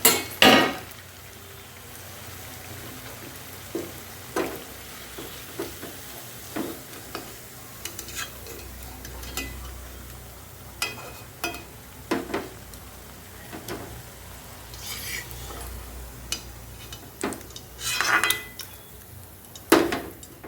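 Cabbage fritters sizzle quietly in oil in a pan while a utensil scrapes and taps several times, lifting them out one by one.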